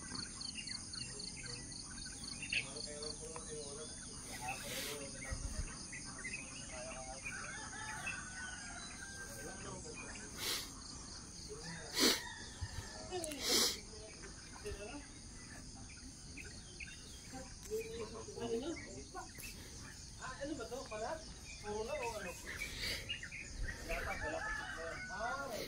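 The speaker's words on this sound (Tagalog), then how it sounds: "Huni lang ng ibon or hayop." Crickets chirr steadily in the background while birds call intermittently and a rooster crows in the distance, an outdoor morning chorus at an eco camp.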